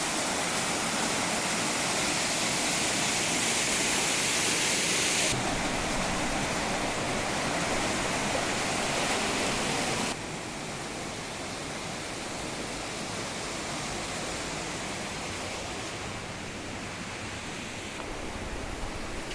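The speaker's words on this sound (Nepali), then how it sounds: "यसको अपोजिटतिर चाहिँ यसरी पानी आइरहेको छ।" Steady broadband rush of river water flowing past the Jhimruk hydropower dam, loud and continuous with no voices, dropping slightly in level about halfway through.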